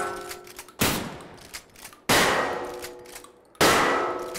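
Three sharp, loud gunshots from the survival game Raised in Oblivion, each ringing out with a metallic clang and decaying tail, spaced over a few seconds.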